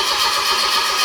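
A loud forklift engine turns over and settles into a steady, rumbling run close by, with no voices.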